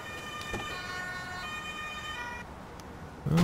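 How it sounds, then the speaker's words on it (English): Police siren in the Emergency 5 game, set on a Hamburg street, wailing with a steady tone as it approaches. It plays faintly and alone over a low background with no talking, and a sharp louder burst comes at the end. "Oh, I can hear the police coming. It's coming around the bend."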